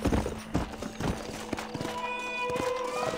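Horse hooves clip-clopping in Red Dead Redemption, uneven thudding steps up close, followed by a tonal whinny as the rider dismounts, with no talking.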